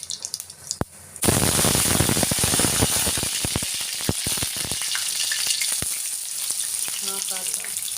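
Cumin and mustard seeds drop into hot oil for a shev chutney. A loud, close sizzle bursts in suddenly, with crackling pops that thin out as the frying settles.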